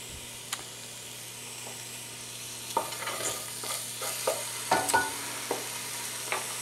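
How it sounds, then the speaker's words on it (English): Meat and bones brown in a pot, giving a soft, steady sizzle broken by scattered spoon clicks and scrapes as they are stirred, with no voices. "meat and the bones inside here and they're browning nicely"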